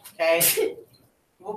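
A person sneezes once, sharp and close, in the middle of a trigonometry class, with speech just around it.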